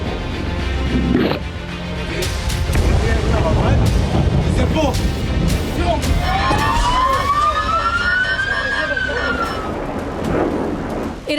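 Sirens rise and fall over Israeli streets during a missile attack. A rising wail climbs partway through, mixed with loud street and crowd noise and rumbling, and people can be heard talking throughout.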